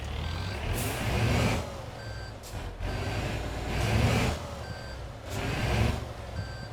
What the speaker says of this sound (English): There's a weird reversing tone.